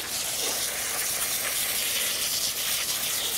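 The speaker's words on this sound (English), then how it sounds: "I'm using the hose like a spatula" Steady hiss and splash of water from a garden hose washing soil off tree roots during root washing for tree planting, continuous and fairly loud with no talk.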